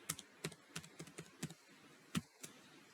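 Keys clack on a computer keyboard as a short word is typed into a text box. About eight distinct, close, quiet taps come at uneven spacing with brief pauses, and no one speaks.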